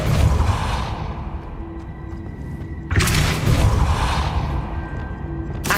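A Depulso spell cast in Hogwarts Legacy, heard as a sudden loud booming whoosh partway through, with a steady rumbling game ambience before and after it and no talk.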